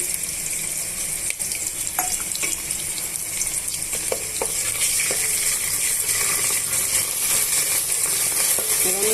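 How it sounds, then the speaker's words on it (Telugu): Ginger garlic paste frying in oil in a pan for chicken dum biryani: a continuous, fairly loud sizzle and crackle with a few faint spoon taps, heard close with no speech throughout. "బాగా మిక్స్ చేసుకొని వేగనిచ్చుకోవాలి"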